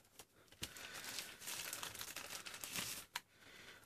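A small paper instruction leaflet from an Acer Liquid S2 phone box crinkles and rustles during unboxing, with bursts of crumpling and a few sharp snaps. The handling is close and quiet, with no voices.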